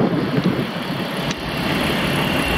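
A Chrysler Town & Country minivan's 4-litre V6 runs under the open hood, a steady, close, broadband idle hum that holds evenly throughout with no voices.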